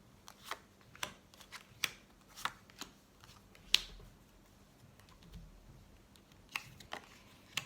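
A deck of tarot cards shuffled for a nine-card spread: soft, close riffling snaps and flicks in an uneven rhythm, quiet with short pauses between bursts.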